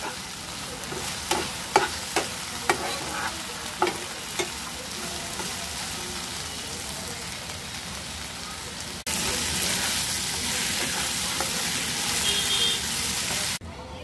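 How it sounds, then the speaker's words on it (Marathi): Wild amaranth leaves bhaji being stirred and mixed with salt in a pan: a few sharp spoon scrapes and clicks early on over a steady sizzle, which turns into a louder, denser hiss for the last several seconds. "सगळ्यात शेवटी आपण थोडं मीठ टाकून घेऊयात आणि भाजीला चांगलं मिक्स करून घेऊयात।"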